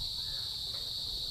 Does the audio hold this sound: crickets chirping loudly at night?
yes